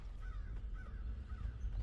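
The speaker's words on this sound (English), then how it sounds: "Birds and all kinds of stuff rustling." Crows cawing in the video game Sky Saga, several hoarse caws repeating at a moderate distance over a low rumbling ambient bed, with no voices.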